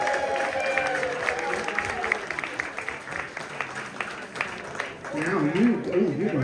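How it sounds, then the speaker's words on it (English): An audience at the Blackpool Bash Weekend 2024 gives a young girl a round of applause, a dense patter of clapping and crowd noise that keeps going while voices call out over it and near the end. "A round of applause for this young lady."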